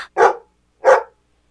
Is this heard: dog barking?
yes